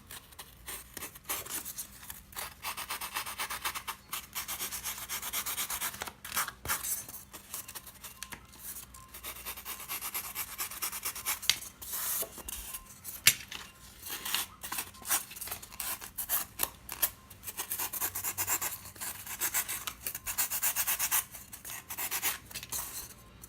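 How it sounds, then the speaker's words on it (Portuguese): Sandpaper rubbed by hand on a 17 cm Funko Sulley figure from Monsters Inc., a steady scratchy rasping in quick irregular strokes, close and continuous for the whole stretch with no talking. "Então, com a lixa, eu vou deixar bem redondinho."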